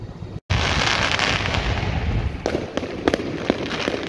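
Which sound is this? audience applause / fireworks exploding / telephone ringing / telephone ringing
fireworks exploding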